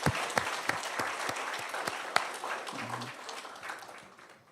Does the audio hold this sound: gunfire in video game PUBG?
no